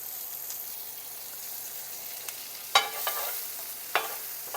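A quarter of an onion sautes in bacon grease over a lowered burner. It gives a faint, steady sizzling hiss, with a few soft clicks and scrapes from stirring.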